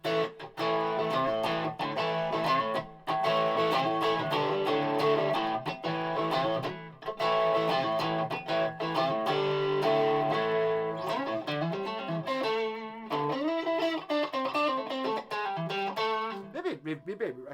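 An electric guitar through a TC Electronic El Cambo plays sustained chords and melodic runs, the notes ringing out with a light reverb tail, loud and continuous.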